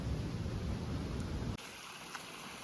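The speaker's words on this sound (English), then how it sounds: "that raging silty torrent that is tumbling" A raging, silty creek torrent tumbles along a Rockwall backcountry trail, making a steady, broad rushing roar that drops abruptly to a quieter wash partway through, with no voices.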